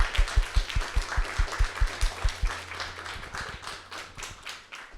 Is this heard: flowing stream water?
no